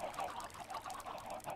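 Chickens in the Minecraft video game cluck and squawk in a quiet, repeated pattern, several birds overlapping in a low, continuous murmur.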